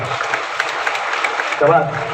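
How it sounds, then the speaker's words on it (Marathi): Audience clapping at a Harinam Saptah kirtan gathering, a steady wash of many hands lasting the whole short stretch, with a brief louder swell near the end. "यांच्यासाठी जोरदार टाळ्या वाजवा"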